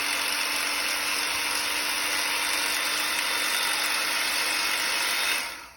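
An old Porter Cable Multi Saw motor runs with a continuous harsh, buzzing whine and gritty mechanical rattle, loud and steady for several seconds before winding down at the end.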